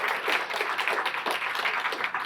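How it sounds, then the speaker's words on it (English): An audience applauding the team, dense steady clapping from many hands with no voices over it. "I'd like to give them a little round of applause and a shout out."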